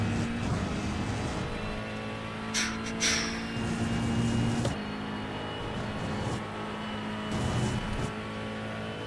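A race car in the iRacing sim at Road America during an IMSA endurance race, its engine a steady, close drone with a couple of brief higher surges as cars run alongside. No one speaks.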